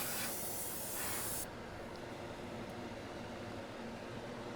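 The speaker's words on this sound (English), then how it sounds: "So a quick blast with the compressed air to get rid of any dust." A strong, steady blast of compressed air dusting a HAM International Concorde II radio front runs for over a second, then stops sharply, leaving a low background rumble.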